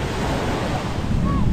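Large ocean waves washing and surging in a steady broadband roar close by, continuous for the short stretch with no break.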